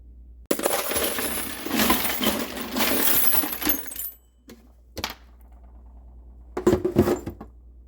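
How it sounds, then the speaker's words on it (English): A hand rummages through a big tub of miscellaneous metal washers, making a dense, loud jangle of clinking steel for several seconds, then a few separate clinks and a final burst of rattling, close up. "everybody's got to have one of these, a big old tub of miscellaneous washers"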